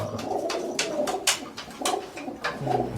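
Racing pigeons coo repeatedly at close range, with low throaty calls and short bursts of rustling and scuffling between them.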